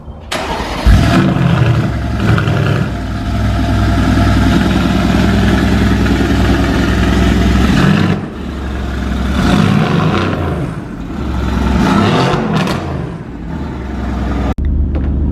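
A Yamaha R1M sport motorcycle starts up with a loud, close engine roar, then revs repeatedly, rising and falling in several bursts before cutting off sharply near the end.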